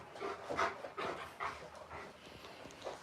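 A dog pants rapidly and rhythmically close by indoors, a string of quick breathy puffs with a faint whimper, fairly quiet overall.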